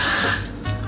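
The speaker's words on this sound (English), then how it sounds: "Then I just spray it all around the perimeter." A short, close hiss of hair spray from an aerosol can, misted around the hairline perimeter while fixing a half wig, tapering off and then resuming briefly.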